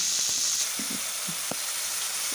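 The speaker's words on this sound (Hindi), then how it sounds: "तड़का जो हमारा है वो थोड़ा भुना गया उसके बाद में हम टमाटर ये भी भून लेंगे" Steady, loud sizzling of a spice tempering and tomatoes frying in a hot pan, a continuous hiss with a few soft clinks.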